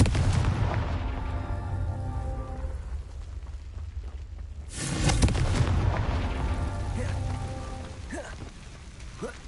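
A Confringo fire spell explodes in Hogwarts Legacy as a loud, broad roaring rumble with crackling like heavy rain, swelling into a sharp burst about halfway through, then rumbling on.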